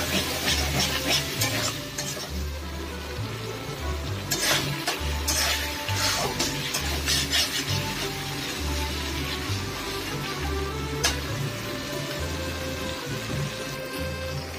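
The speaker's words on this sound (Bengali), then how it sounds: "তবে ফ্লেমটা কমিয়ে ভালো করে সব কিছু কষে নিই" Spices and sugar stir-fried in a pan over a low flame, with a soft continuous sizzle under repeated scraping of the spatula in an uneven rhythm.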